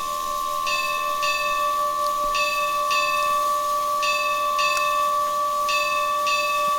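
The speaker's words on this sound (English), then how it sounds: "And then Shift B will play the bell." The locomotive bell of an LNER A3 4-6-2 Flying Scotsman in the Train Simulator Classic game rings in steady paired clangs, loud and clear over a constant tonal hum, with no talking.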